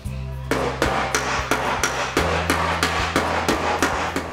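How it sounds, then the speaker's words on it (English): Metallic hammer blows against a dolly knocking out a car body dent ring out at a steady, even rhythm, about two strikes per second, sharp and close, over a low background hum. "we've repaired the dent with the hammer and dolly"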